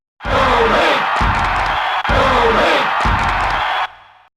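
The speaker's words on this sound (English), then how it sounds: "Soon, the crowd even started to cheer for me" A stadium-style crowd roars and cheers during a Super Smash Bros. Melee match, a loud, dense wash of voices that swells, breaks briefly, then fades out.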